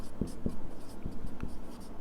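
Pen scratching across paper while a line of notes is written, with a few short, firm strokes spaced through the clip and a quiet continuous scratch between them, close and alone.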